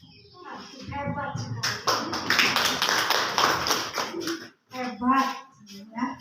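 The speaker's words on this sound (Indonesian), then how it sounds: "Tepuk tangan buat ini." Audience applause at a seminar, a burst of clapping from many hands lasting a few seconds, with a person speaking before and after and voices running beneath it.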